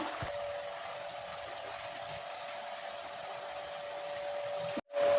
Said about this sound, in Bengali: সোয়াবিনের কোপ্তাটা রান্না হয়ে গেছে, ঢেলে নেবো এবার আমি